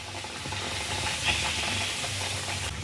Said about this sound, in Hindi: इस तरीके से सारी पूरियाँ आप तल लीजिए